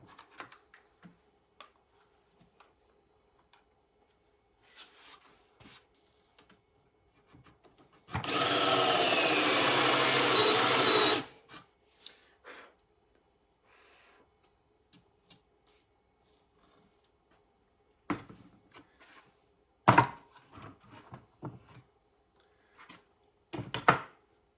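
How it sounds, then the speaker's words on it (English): A power drill with a hole-cutting bit bores into a wooden board for a bottle vase centerpiece, giving one loud, steady whirring cut of about three seconds among quiet clicks and handling knocks. "So the next thing we're going to do is actually cut out the hole with our bit to make the circles in the top of the board."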